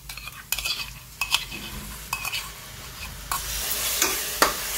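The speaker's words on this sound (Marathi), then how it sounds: "आता 1 मिनिटासाठी हे दही आपण व्यवस्थित या मसाल्यात मिक्स करून घेत आहोत।" Beaten yogurt is stirred into a masala over medium heat for a bottle gourd curry, with bursts of scraping and sizzle from each stir between quieter simmering, close and free of speech.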